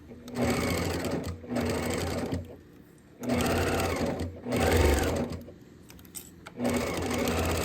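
A sewing machine stitches placemat fabric in several bursts of steady, rapid whirring, pausing between runs as the fabric is turned, loud and close with no talk over it.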